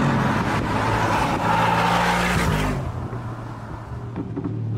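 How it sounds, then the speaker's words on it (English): An Urban Design G700, an upgraded Mercedes-AMG G63 V8, accelerating hard through the gears in Sport Plus: a loud, close engine roar that climbs in pitch, shifts, then settles into a lower, quieter drone. "I'm going to go through the gears now."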